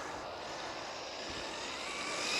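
A Tamiya RC car's electric motor runs at three-quarter throttle, a steady broadband whine and rush that swells slightly toward the end, heard outdoors without talk.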